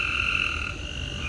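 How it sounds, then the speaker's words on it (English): Frogs croak beside a pool in a close, steady, high-pitched trilling chorus with no voices. "I just can't believe these frogs out here having a party right now."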